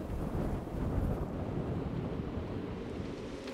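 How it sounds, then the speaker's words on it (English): Strong Mediterranean wind in the Strait of Bonifacio buffets a sailboat at anchor, a steady low roar of gusts with wind battering the microphone and no voices. "as our British friends say, it is blowing a hoolie"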